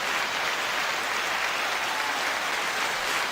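Steady applause from a live audience at a podcast taping, dense and even throughout with no gaps, a full crowd clapping continuously without any talk over it.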